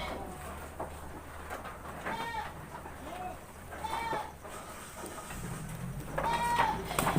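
Goats bleat in a farm goat pen housing Jawa Randu crossbreeds, several wavering calls at moderate distance over steady background noise, with chickens clucking nearby.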